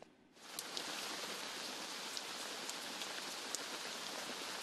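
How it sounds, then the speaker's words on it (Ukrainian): Heavy rain falls at the front line in Donbas during May storms, a dense, steady hiss that starts abruptly and continues loudly, with scattered sharper drop impacts and no speech. "На передовій задощило."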